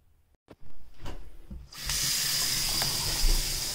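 Water from a tap runs into a sink and through newly installed ABS or PVC drain pipes with a P-trap: a few knocks first, then a steady loud rushing hiss that continues to the end.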